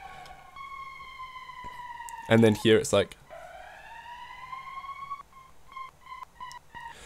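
A wailing siren sample in FL Studio rises and falls in long sweeping tones, briefly cut by a short burst of talk midway before the wail resumes.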